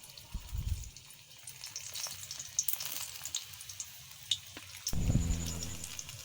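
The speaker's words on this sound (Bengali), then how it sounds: "এবার কাঁচা লঙ্কার রোলগুলো তেলের উপর দিয়ে দেবো" Green chilli rolls go into hot oil and fry with a close, bright crackling sizzle, soft at first and then surging louder near the end, with no talking.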